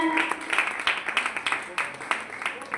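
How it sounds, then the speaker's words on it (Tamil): An audience claps in scattered bursts, fairly close, with a few irregular rounds over a couple of seconds and faint voices beneath. "எண்ணங்களை சரியா விரைச்சி கைத்தட்டல் கொடுங்க"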